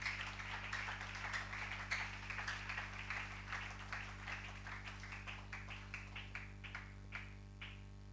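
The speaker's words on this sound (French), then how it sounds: "On applaudit pour le Seigneur." A church congregation claps for the Lord, a steady run of hand claps at a moderate pace that grows crisper and more distinct toward the end, faint against a constant low hum.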